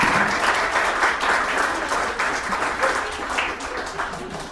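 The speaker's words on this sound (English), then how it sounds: "Can we get another round of applause for her?" Steady audience applause at a women's day celebration, a dense wash of clapping that fades slightly toward the end, with some voices mixed in.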